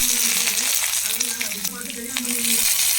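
Crushed spices and mustard seeds sauté in oil for a greens stir-fry, making a bright, continuous close sizzle with a faint voice murmuring underneath.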